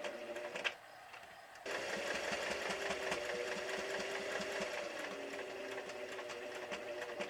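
A sewing machine runs steadily while stitching through quilted scrap fabric for a clothespin bag, a close, even mechanical whir with a brief stop near the start before the stitching resumes and continues without talking.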